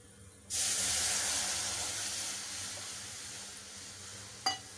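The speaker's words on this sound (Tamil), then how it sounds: "ஒரு கப் தண்ணி ஆட் பண்ணிக்கலாம்" Water pours into a hot kadai with a sudden, steady hiss that slowly fades, ending with a light clink.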